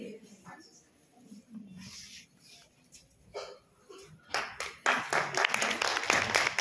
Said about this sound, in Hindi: तालियों में वो खनक नहीं है, वो भीड़ नहीं है